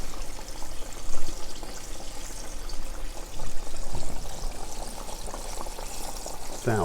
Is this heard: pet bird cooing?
no